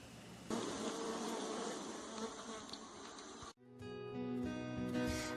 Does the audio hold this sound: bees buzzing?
yes